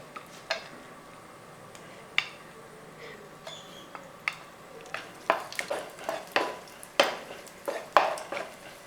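Cashews roast in ghee in a pan, a faint low hiss under scattered spatula clicks and scrapes that grow more frequent toward the end; nobody speaks.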